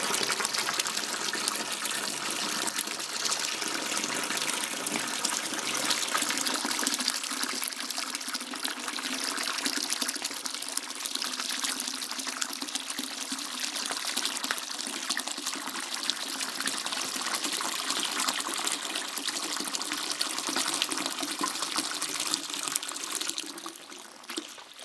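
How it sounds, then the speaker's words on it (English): Sangiovese wine pours vigorously and splashes against the container walls, a continuous close gushing and sloshing flow that runs steadily without a break. "Pouring a little bit vigorously there. I'm going to slow down. I'm splashing it all over the walls."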